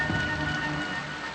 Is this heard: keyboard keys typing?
no